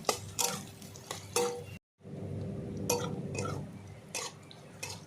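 Split green chillies frying in a pan while being stirred, with scraping and clinking of a utensil against the metal over a steady low sizzle; a short silent gap interrupts partway.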